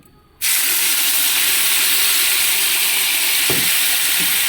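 Roasted tomato-onion paste drops into a hot kebab pan and erupts into a loud, steady sizzle and hiss that continues unbroken, with a brief utensil clink near the end and no talk.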